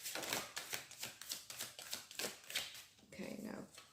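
Rapid crisp flutters of cards being shuffled in quick bursts, with a short riffle near the end, close to the microphone.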